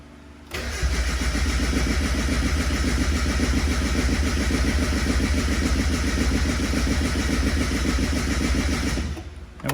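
An E85 project car engine cranks, then catches and runs with a steady, loud, rough drone that holds for several seconds before cutting off, with no talking over it.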